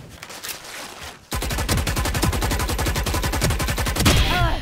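A Blastx Phantom rifle in Valorant fires a long, rapid, evenly spaced automatic burst, loud and close, after a second of quieter game ambience.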